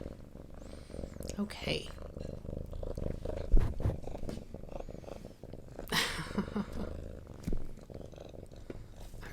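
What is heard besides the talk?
cat purring near microphone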